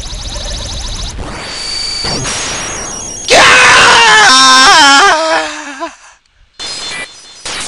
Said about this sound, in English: I heard Darkrai scream.